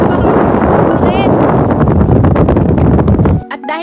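Strong gusty wind at an overnight campsite roaring loudly against the microphone, with a voice speaking under it before the rush cuts off abruptly near the end.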